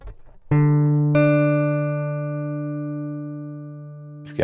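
A synth preset called Big Dipper from Kalide's Collage audio plugin sounds a sustained, bright harmonic tone, struck twice in quick succession and then held steady with a slow fade for several seconds before a brief noisy burst at the end.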